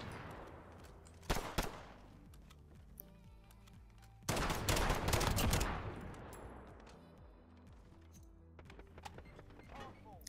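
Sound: Dragunov sniper rifle fired rapidly in video game Modern Warfare

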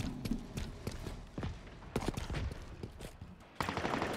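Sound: Mangler shotgun firing in a video game

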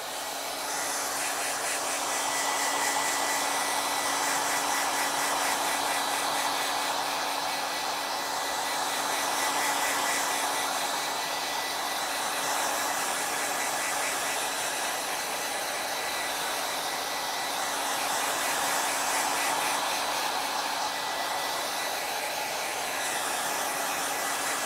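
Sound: blow dryer drying a painting on canvas

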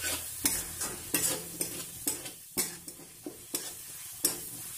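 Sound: tomatoes and capsicum cooking in paneer masala

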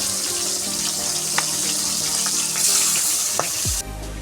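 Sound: tilapia fish frying in a pan

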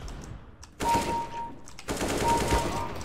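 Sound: gunfire in the video game CS:GO

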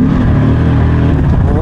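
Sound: 560bhp BMW with Mercedes engine accelerating on boost

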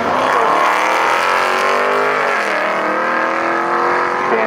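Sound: Honda Accord 2.0T and Dodge Charger Scat Pack drag racing

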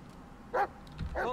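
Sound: dog barking in video game Blair Witch

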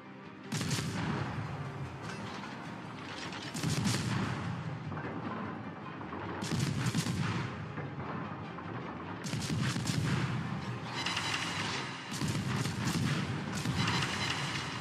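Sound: naval guns firing on target in World of Warships video game

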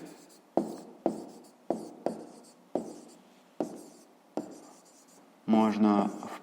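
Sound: writing numbers in a cell

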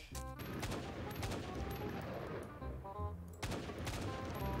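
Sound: AK rifle gunfire in Minecraft video game

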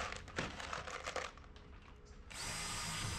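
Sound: drill driving screws into canoe hull strips

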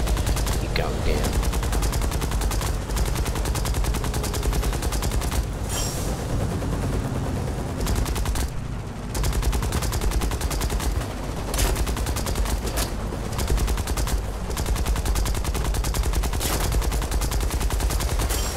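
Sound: gunfire in the War Thunder video game

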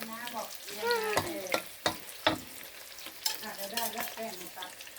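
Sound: orchid flowers frying in batter

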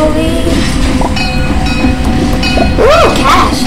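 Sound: train in Roblox Mad City video game

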